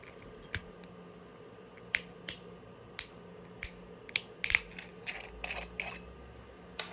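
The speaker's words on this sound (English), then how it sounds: "So, okay, this is a screw cap." A screw cap twisted off a wine bottle gives a series of sharp, close clicks and snaps, spaced irregularly and then bunching together, in a quiet room with no talk.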